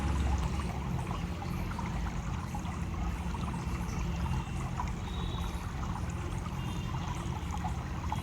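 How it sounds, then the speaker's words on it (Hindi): Water from a waterfall rushes in a steady, dense broadband roar that stays even and unbroken throughout, close and fairly loud with no voices. "झरने से बहते हुए जल की ध्वनि को महसूस करें।"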